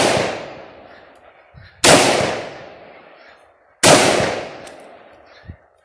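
Two sharp, loud gunshots ring out about two seconds apart at targets during a close-quarters battle shooting demo, each followed by a long decaying echo, with a faint thump between them.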